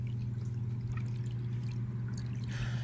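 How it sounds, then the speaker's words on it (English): Air bubbles out of hot tub jets after a filter is removed and reinserted, a steady gurgling, trickling wash of water over a constant low pump hum, close and continuous with a brighter splashing swell near the end. "there's definitely still air coming out. You can hear it, it'll come out of the jets"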